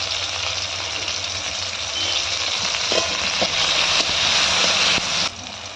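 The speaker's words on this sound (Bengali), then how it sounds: "তেলে প্রথমে টমেটো কুচি দিয়ে দেবো" Chopped tomatoes fry in oil with kalo jeera in a kadai, a loud close sizzle that holds steady with occasional stirring clicks before easing slightly at the end.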